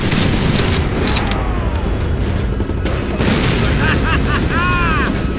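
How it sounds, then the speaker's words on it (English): A fuel tank explodes in a wartime shooter video game, Dimitri Petrenko's story, with a loud rumbling blast amid constant battle noise and shouting voices in the mix. "Exploding the fuel tank."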